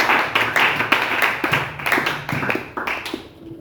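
A church congregation claps in a quick, dense rhythm, close and steady throughout, with faint voices beneath.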